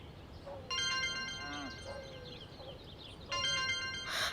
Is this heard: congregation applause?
no